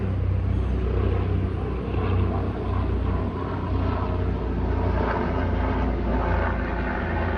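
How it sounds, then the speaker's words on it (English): Propeller airplane passing overhead, a steady broadband engine rumble and drone that holds for the whole stretch with no talk over it. "Getting the plane flying over now."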